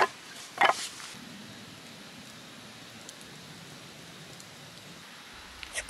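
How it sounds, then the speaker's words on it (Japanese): Rainwater dripping from trees onto a forest campsite in the mountains, a soft continuous patter with a few louder drops and rustles near the start, quiet and without talking. "なんかここだけ雨降ってるんだけど、木から伝ってるからかな。"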